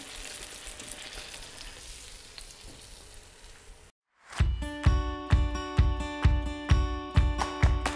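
Chicken zinger pieces deep frying in hot oil. Roughly four seconds of steady, bubbling sizzle break off abruptly. A run of loud, regular metallic knocks follows, sounding about every half second.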